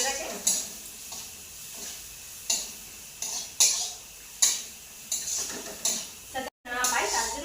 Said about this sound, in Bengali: দেখতেই পাচ্ছি আমি ভালোভাবে কষে নিচ্ছি